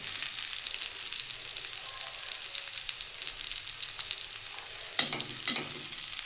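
Fried onions are lifted and drained from hot oil with the gas flame turned off, giving a steady crackling sizzle throughout and a couple of sharp scraping clatters near the end.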